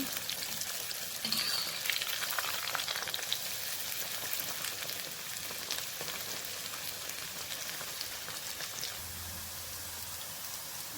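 Soya chunks for a spicy soya 65 fry deep frying in hot oil, giving a steady, dense sizzle with fine crackling pops, close and continuous for the whole stretch with no talking.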